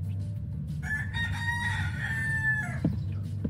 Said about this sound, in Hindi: मुर्गा बोल गया है, कस्टमर्स लोग आते ही होंगे।